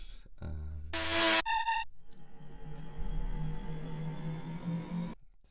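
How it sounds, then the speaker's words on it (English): A tech house riser: a bright noisy burst with a tonal stab gives way to a sustained, airy swell that holds for several seconds before cutting off abruptly. "we also need a riser"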